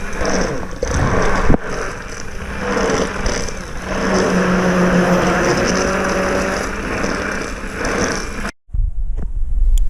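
A mixer churns homemade dog shampoo as gum is added, giving a loud, steady whirring drone close by that holds for several seconds before cutting out sharply near the end.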